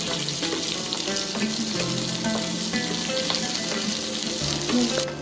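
Onion sizzling in a pan with garlic and ginger for a shev bhaji, a steady close frying hiss with occasional clinks and stirring sounds.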